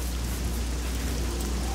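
Steady rainfall in an Oblivion-style fantasy role-playing game, a constant, even wash of rain on surfaces with a low rumble underneath and no talking.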